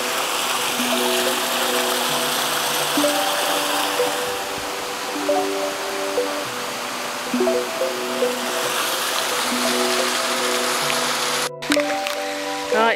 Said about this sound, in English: Another pretty waterfall